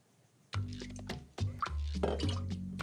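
White grapefruit juice pours into a cocktail shaker or jigger in short splashy bursts, close and clear, with a brief drip and clink between pours.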